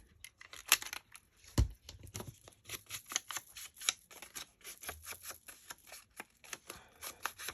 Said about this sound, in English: I only want to cut the very corner.